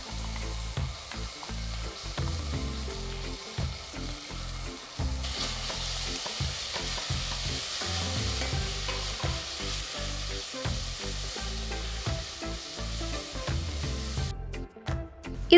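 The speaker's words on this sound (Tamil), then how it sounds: "இதில் அரைச்ச இஞ்சி, பூண்டு, பச்சை மிளகாய் விழுதை போட்டு வதக்குங்க." Steady loud sizzling as ground ginger, garlic and green chili paste fries in a hot pan, with repeated scraping and stirring strokes throughout, close up and without speech.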